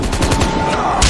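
Rapid gunfire from a battle royale video game, a short, loud burst of repeated shots throughout.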